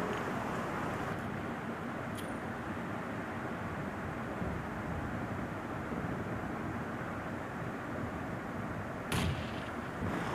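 Gunfire in the mobile battle-royale game PUBG Mobile, with a couple of sharp shots standing out over a steady, loud wash of in-game noise and no talking.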